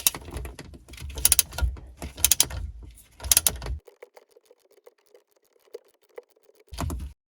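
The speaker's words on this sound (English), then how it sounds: "I'll hop to the right bolt and begin loosening that one." A ratchet loosens bolts on a 951DI direct-injection jet ski engine, giving bursts of rapid clicking close by, then a quieter pause with faint ticks before one last short burst.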